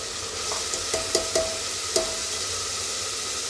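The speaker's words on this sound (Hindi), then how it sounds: "इसे अच्छे से तेल में भून लूंगी।" Spice paste of onion, garlic, ginger and green chilli frying in oil for a chickpea curry, giving a steady close sizzle with a few soft stirring scrapes of a spoon in the pan.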